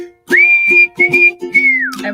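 A person whistles a short tune close by, clear sustained notes in three phrases with brief breaths between, alone without talk.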